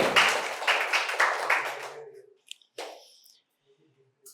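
Audience applause at a medical college quiz competition, a loud burst of clapping from a crowd that fades out after about two seconds, followed by a few scattered claps and taps.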